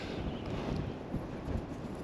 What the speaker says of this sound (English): I hope you can hear me above this wind.